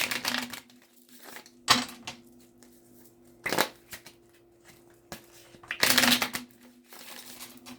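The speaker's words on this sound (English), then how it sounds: "I like to shuffle in half. Makes it easier." A big deck of cards is shuffled in half, giving short, crisp riffling bursts roughly every two seconds, close and fairly quiet, with faint handling noises between them and no speech.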